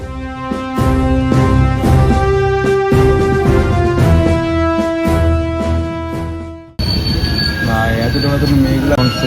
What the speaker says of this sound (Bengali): আমাদের ট্রেন এখন দাঁড়িয়ে পড়েছে